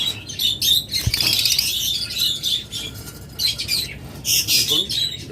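A pair of black mask pet birds squawk and chirp loudly and harshly from close by, in bursts that keep overlapping, with faint rustling and one brief low thump between the calls.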